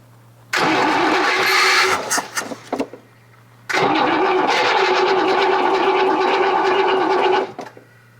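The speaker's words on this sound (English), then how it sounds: "We can just crank it and let it fill up." A 1956 Chevy engine cranks and starts twice, each time catching into a loud close roar. The first run sputters out after a couple of seconds. The second keeps running steadily for several seconds before cutting off.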